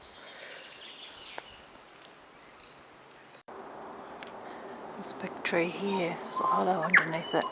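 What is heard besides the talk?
tui bird calling in New Zealand native bush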